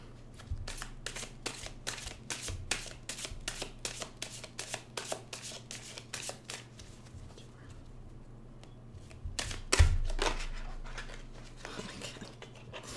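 A tarot deck is shuffled by hand in quick, rapid flutters of card snaps. Brief pauses break the flutters, and a louder thump comes near the end.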